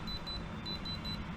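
A sapphire tester pressed against a wristwatch's sapphire crystal in a Marmaris watch shop gives a faint, regular high-pitched beeping, about six short pulses over steady background hum.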